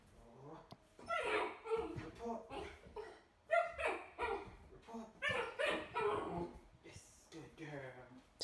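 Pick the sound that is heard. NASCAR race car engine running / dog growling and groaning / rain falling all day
dog growling and groaning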